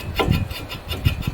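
A front brake rotor is worked loose from the rusted hub of a 1999 Ford Expedition during a brake job, giving short, close rubbing and scraping strokes in an uneven rhythm.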